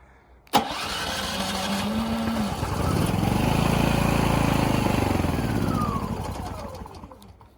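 A Powerhouse PH2100pri generator fitted with an aftermarket remote start cranks with a sharp click, then its engine catches and runs loudly and steadily before winding down at the end.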